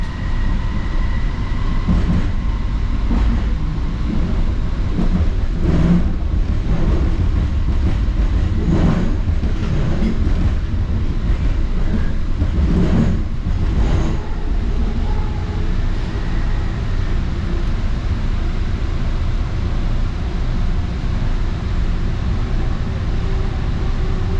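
The AirTrain JFK rides along its track toward the airline terminals, a loud continuous rumble with rhythmic clacks and thumps over the rails in the first half, then a smoother steady roar.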